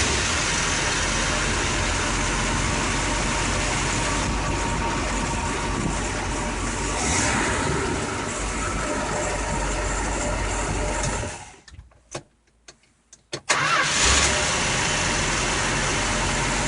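The engine on a 1974 Starcraft Starcruiser boat runs steadily with a loud, constant drone, then cuts out to near silence with a few faint clicks before cranking and firing back up.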